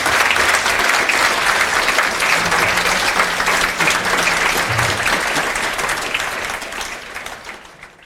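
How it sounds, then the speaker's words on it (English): Sustained applause from a festival talk audience, steady and dense for several seconds before gradually fading out. "One more round of applause."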